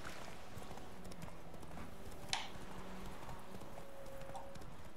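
Steady clip-clop of horse hooves in a quiet scene from The Witcher 3, with one sharp brief sound in the middle and a low murmur underneath.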